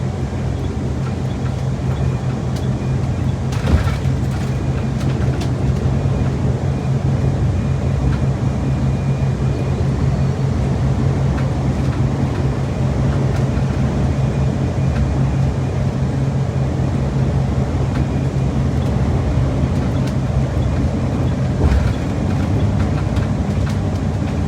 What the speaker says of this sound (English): I've got it in high engine braking right now. I'm running 6th gear.